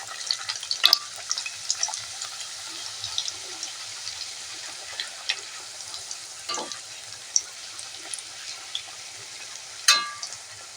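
Semolina paratha frying in hot oil in a kadai, a soft continuous bubbling sizzle with occasional pops and crackles, fairly quiet and unbroken by voices.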